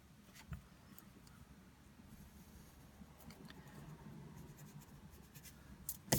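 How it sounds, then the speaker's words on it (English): A pencil draws lines on paper in a cube sketch, faint close scratching strokes in short repeated bursts at an unhurried pace. "we just draw that line again, draw a connecting line here, and then connect down to this point"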